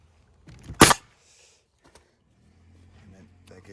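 A nail gun fires a nail through flashing on James Hardie siding, one sharp loud pop close by, with quiet sounds around it before and after.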